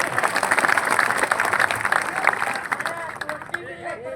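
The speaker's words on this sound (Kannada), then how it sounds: "ಸರ್ಕಾರಕ್ಕೆ ಒಂದು ಚಪ್ಪಾಳೆ ಹೇಳ್ಬಿಡ್ರಿ" Crowd applause at a large farmers' protest in Mudhol, Bagalkot district, a dense sustained clapping that thins toward the end, leaving scattered claps and background voices.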